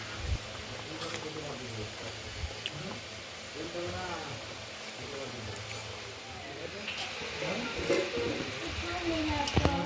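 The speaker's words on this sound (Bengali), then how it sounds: "এই যে ঝোলটা ফুটে গেছে এখানে আমি ঝোলের মাছগুলো এবার দিয়ে দেবো" Rohu fish simmering in boiling poppy-seed gravy in a pan: a continuous soft bubbling and light sizzle with small popping bursts, steady and close throughout.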